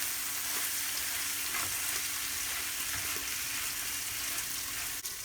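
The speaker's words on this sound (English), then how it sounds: "you just kind of let it simmer for a few minutes" Meatballs in spaghetti sauce on the lowest burner setting give a faint, steady bubbling sizzle with occasional soft pops, close by and without voices.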